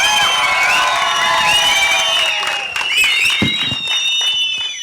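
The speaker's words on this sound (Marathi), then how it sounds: "जोरदार टाळ्या झाल्या पाहिजेत संदीप मोहिते पाटील सरांसाठी" An audience at a Marathi-Hindi film trailer launch applauds loudly, with cheering and shrill whistles riding over the steady clapping throughout.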